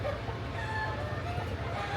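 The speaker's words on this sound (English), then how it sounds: "Just in case you guys are wondering why there's always fucking chicken sounds." Chickens cluck and crow steadily at moderate distance outdoors, mixed into constant low background noise with some voice-like sound.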